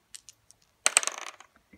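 Two dice rolled by hand for a multiplication practice game: a few soft separate taps, then a quick burst of light clattering and bouncing that fades to small ticks, quiet and close.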